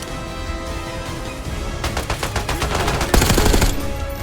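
Rapid bursts of automatic gunfire in Call of Duty: Black Ops 6, loud and close, a sustained rattling volley that intensifies toward the end, with no talking.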